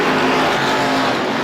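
Race cars, including car number 51, roaring down the back straightaway during the 2017 Halloween Howler feature race, a loud, continuous, close engine roar of several cars passing together.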